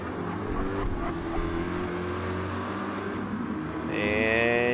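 A Corvette and a Lamborghini race car running side by side in a GR4 race at the Nurburgring in a racing game, layered engine drones holding steady, then a sharper rising whine near the end.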